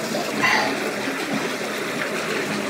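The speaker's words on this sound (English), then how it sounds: "Whoa, that is flowing poo." Sewage rushes through a manhole in a steady, close, broadband flow with gurgling and splashing and no pauses.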